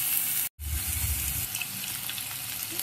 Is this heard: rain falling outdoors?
no